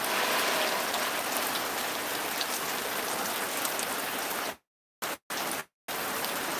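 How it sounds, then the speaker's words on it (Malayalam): Steady rain hisses on surfaces, a dense even patter that drops out abruptly a few times before returning. "മഴ പെയ്തു തുടങ്ങിയുള്ളൂ"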